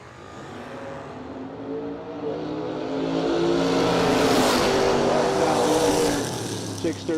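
A Chevrolet Vega drag race car launches at a no-delay drag racing event, its engine building into a loud sustained roar that peaks midway and then fades, heard from trackside with a broad noisy wash.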